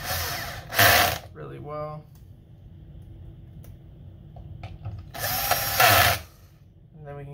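A power screwdriver driving medium screws into an Xbox Series X during disassembly, with two short whirring bursts a few seconds apart and quiet clicks and a brief voice between them.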